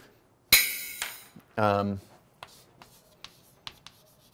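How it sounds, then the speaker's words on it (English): A marker writes on a board: a sharp knock as it meets the surface, a short squeaky stroke, then a series of light taps and scratches that grow sparser, close and clear. "I'm gonna write over here"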